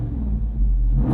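Deep, bassy exhaust rumble from a 2024 Jeep Wrangler 392 Rubicon Final Edition with its Hemi V8, a steady low drone that swells slightly as it revs.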